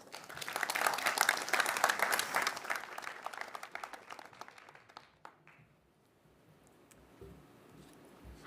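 Warm applause from a townhall audience greeting a speaker, dense and loud for about five seconds, then thinning out to a few scattered claps and quiet room noise.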